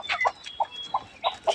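Farm chickens on a Bangladeshi agro farm cluck in a string of short, moderately close calls, about six soft bursts spaced irregularly, with no talk.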